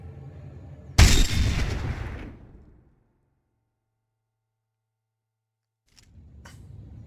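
A single sharp sniper rifle shot in the video game Sniper Elite 4 multiplayer cracks loudly, then rings out with a decaying tail over about two seconds before near silence.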